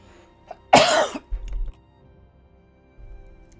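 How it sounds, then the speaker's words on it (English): A person coughs in a short, forceful burst right after drinking water, followed by a couple of quieter throat-clearing rasps, close to the microphone in an otherwise quiet room. "why am I coughing after drinking water?"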